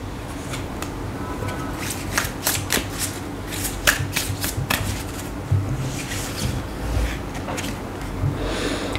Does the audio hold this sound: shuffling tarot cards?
yes